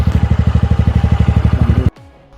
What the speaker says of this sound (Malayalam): എഞ്ചിൻ സ്റ്റാർട്ട് ചെയ്തു.